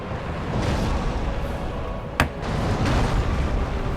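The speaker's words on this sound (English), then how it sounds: "I flicked my Fire Tempest." A Fire Tempest pyromancy eruption in Dark Souls gives one sharp, bright burst partway through, set in a loud, steady rumbling game ambience.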